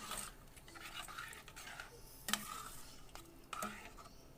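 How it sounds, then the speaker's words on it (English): Seasoning being stirred into a pot of chicken gnocchi soup, a steady soft scraping and swirling with a few sharper clinks of the utensil against the pot, close and fairly quiet. "So I'm going to go ahead and mix that up."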